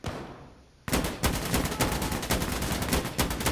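Loud bursts of rapid gunfire from the video game Insurgency: Sandstorm come in after a brief quiet start and continue as a dense, sustained volley of repeated shots to the end.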